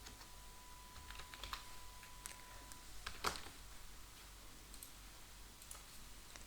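Typing short text on a computer keyboard, a handful of quiet, sparse key clicks with one slightly louder tap near the middle, close and without talk over faint room hiss.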